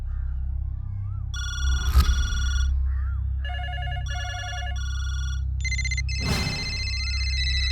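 Electronic telephone ringing in a Hindi-dubbed action film, repeated tonal ring bursts in a stepped pattern, fairly loud and close, broken by a couple of sharp knocks, with no speech over it.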